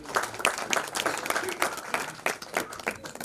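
Sparse applause from an audience at a Hindi poetry award ceremony, welcoming the chairman to speak; scattered claps rise and fall unevenly over a few seconds, fairly close and moderately loud.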